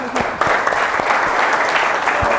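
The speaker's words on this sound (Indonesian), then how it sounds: "Oke, anak-anak, tepuk tangan untuk kalian." A classroom of students clapping together, loud and sustained dense applause with a few sharper individual claps standing out, and a little talk mixed in.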